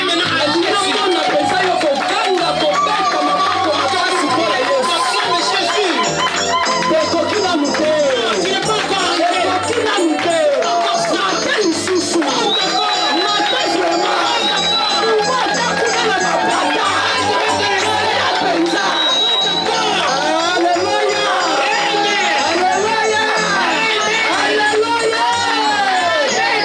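A church congregation cheers and acclaims Jesus at a prophetess's service, a loud, sustained crowd roar with shouts and babble filling the whole stretch without pause.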